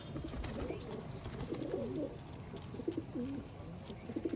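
Giribaz pigeons coo softly and repeatedly up close, a low throaty burbling that continues in short phrases over a faint background hum.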